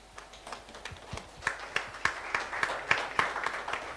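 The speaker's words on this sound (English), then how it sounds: "Please can we give him a warm round of applause and may he come to the stage if he's here." An audience at a livestreamed creative-industry panel event applauds to welcome a panelist to the stage, a steady patter of many claps that is sparse at first, then swells and holds at a moderate, slightly distant level.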